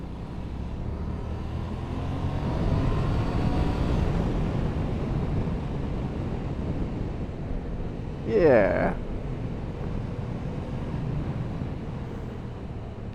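A Yamaha MT-07 motorcycle with a stock exhaust hums low and steady while riding, mostly under wind rush, with a brief spoken word partway through.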